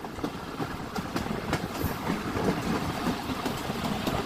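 A Sundarban Express passenger train runs steadily, its carriages rumbling and rattling with faint wheel clicks, heard from on board as a continuous, even roar with no pauses.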